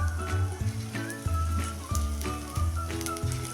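Potato bhaji frying in hot oil, a soft continuous sizzle with faint crackles running throughout, recorded close and steady with no speech.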